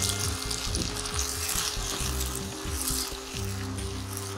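Onions and freshly added tomatoes sizzle and fry in a pan for dal palak, a steady close hiss with soft bubbling and a few low stirring knocks, no voices.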